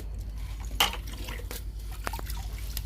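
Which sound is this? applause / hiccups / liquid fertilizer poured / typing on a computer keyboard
liquid fertilizer poured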